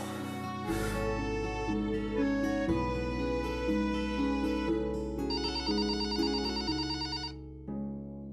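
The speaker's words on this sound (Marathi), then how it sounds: "लँडलाईन वर करतो." A landline telephone ringing in a drama scene, a sustained electronic ringtone melody with shifting tones under a musical background score, no talking.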